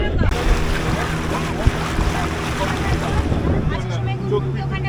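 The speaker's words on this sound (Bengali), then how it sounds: "এখন বোট ছাড়লো, এরকম বোট যাচ্ছে দেখুন।" A passenger boat pulls away across open water off Goa, its engine droning steadily under wind buffeting the microphone and the wash of water along the hull, loud and close throughout.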